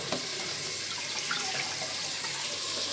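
Tap water runs steadily into a kitchen sink while lentils are washed, a close, continuous splashing hiss with no talking.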